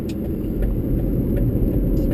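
A 2004 Lincoln Navigator driving off, heard from inside as a steady, low engine and road rumble with a faint whir, continuous and fairly loud throughout.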